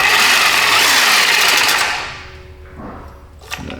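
A Diablo carbide cutter bites into the face of an exhaust weld on a Ford Explorer flex pipe, a loud continuous grinding whine for about two seconds that then cuts out, leaving faint clatter as it winds down.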